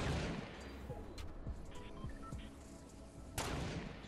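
Sniper rifle gunfire in Fortnite Battle Royale: a couple of sharp shots about three seconds apart, heard faintly against low background game noise.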